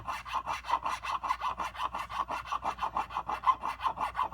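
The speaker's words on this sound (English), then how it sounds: "sand out any bigger marks in the brass" Rhythmic back-and-forth sanding of brass frets on a Stew Mac Mini T guitar kit, close and steady with even rasping strokes about four or five per second.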